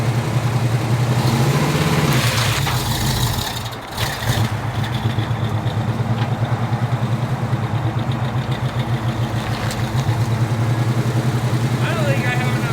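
A Pontiac Firebird with a manual transmission sits idling with a steady low engine drone through a burnout attempt, a brief rev near the start, with a voice talking over it.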